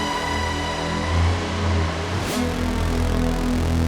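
Distorted cinematic synthesizer drone with rich sustained harmonics and a tube-style drive, holding steady and then shifting in timbre after a short sweep midway, loud and alone.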